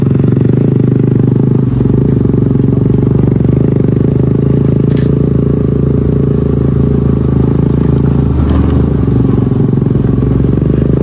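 A motorcycle rides over a rough road with a loud, steady engine drone and a dense rattle and clatter throughout, close to the rider the whole time.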